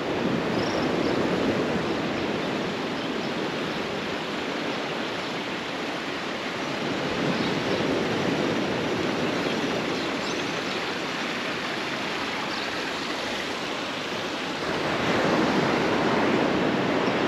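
Ocean waves wash onto the beach at Praia do Poá right at the water's edge, a steady loud roar of surf with wind noise, swelling slightly near the end, no voices.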